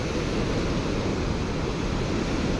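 Water rushing through the open gates of Pong Dam at Talwara, a loud, steady broadband roar that fills the whole stretch without letup, with no voices.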